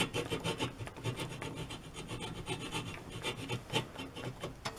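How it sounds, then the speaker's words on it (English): A hacksaw cuts into a broken wooden table leg with quick, rhythmic rasping strokes, close by and moderately quiet, each pass scraping through the wood in a steady back-and-forth pattern. "I'm going to use a hacksaw and cut along that middle line"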